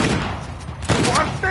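Shotgun blasts in a PS4 video game, a couple of loud booming shots over a dense, noisy battle mix, with voices shouting over the fire.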